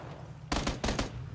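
Gunfire in PUBG: a short burst of two or three shots followed by another quick pair of shots, fairly close and loud, with no talk over it.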